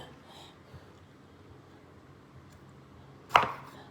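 A knife hits a cutting board once while chopping tomatoes, one sharp, close chop near the end after a long, quiet stretch of faint kitchen room noise.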